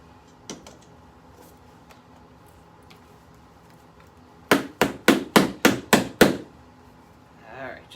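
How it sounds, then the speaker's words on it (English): Steady, forceful pounding on an old clogged colorant bottle: seven loud, sharp knocks in a quick even rhythm, close by, after a quieter stretch with a single earlier tap. "just keep pounding on it"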